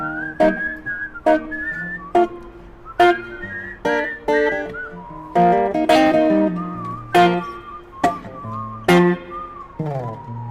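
A person whistles a melodic tune in repeated short phrases, clear and close, with a rhythmic accompaniment of plucked or struck notes underneath, during a livestreamed performance.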